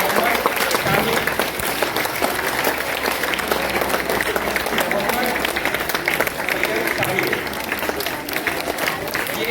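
Audience applause at a school ceremony in Jalgaon honoring Mission UPSC achievers, a dense, steady clapping from a crowd that continues loudly throughout.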